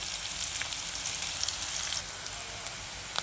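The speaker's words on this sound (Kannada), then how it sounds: "ಈಗ ಒಗ್ಗರಣೆ ಸ್ವಲ್ಪ ಚೆನ್ನಾಗಿ ಕಾಯಿದ್ವಿ" Steady, close sizzle and crackle of a tempering heating in hot oil, ready for lotus stems, with a dense hiss that continues without pause for a few seconds and no talking.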